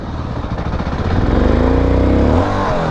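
A nearby motorcycle engine revs up hard at a motorcycle show, spinning its rear tyre, climbing into a loud sustained roar before easing off slightly at the end.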